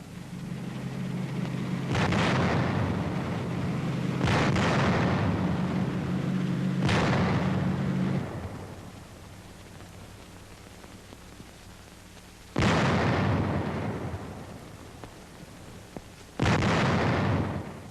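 Artillery and gunfire from a May–June 1940 Western Front battle newsreel, with several heavy booming blasts spaced a few seconds apart, each trailing off, over a low rumbling background.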